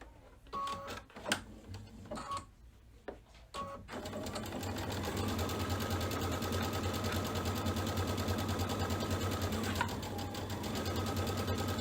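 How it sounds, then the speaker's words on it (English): A sewing machine runs steadily, stitching a quarter-inch seam with a continuous rapid mechanical whir for about eight seconds, after a few short start-stop bursts and handling clicks at the beginning. "going back over to the machine. Same 1/4 inch seam allowance on both sides."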